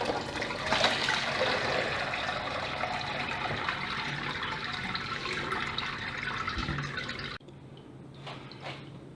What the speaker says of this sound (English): And now we're going to drain off our curds